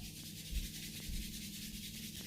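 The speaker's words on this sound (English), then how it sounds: "Bring those hands together, rubbing them to warmness." Palms rub briskly together to warm them during a yoga practice, a close, steady dry friction with slight rhythmic swells lasting a couple of seconds.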